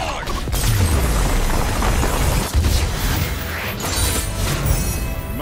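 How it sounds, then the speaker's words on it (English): An artillery barrage in a video game, with dense overlapping explosions and heavy booms rumbling loud and continuous, one sharper impact in the middle. "Artillery barrage!"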